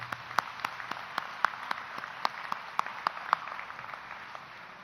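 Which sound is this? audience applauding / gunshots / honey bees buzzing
audience applauding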